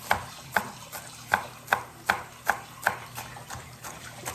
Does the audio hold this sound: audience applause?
no